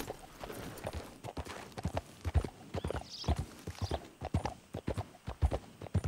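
Horse hooves clip-clop at a brisk pace through the Red Dead Redemption 2 video game, a steady run of soft, fairly quiet thuds with a brief higher whinny-like sound midway.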